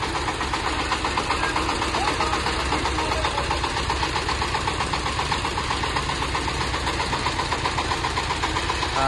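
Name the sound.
mini tractor engine idling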